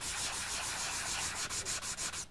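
Close, rhythmic rasping of a diamond sanding pad scrubbed back and forth over a countertop, strokes quickening toward the end before stopping.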